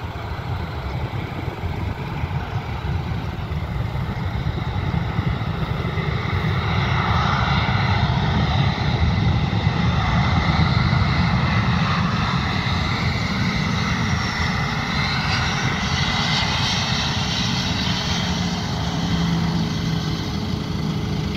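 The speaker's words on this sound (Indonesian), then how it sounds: "Saat ini kita melihat pesawat akan melakukan landing atau mendarat melalui runway" A Lion Air Boeing 737-900ER landing on runway 18, its jet engine roar steady and loud throughout, a broad continuous rumble with shifting whine, heard from nearby on the ground without talk.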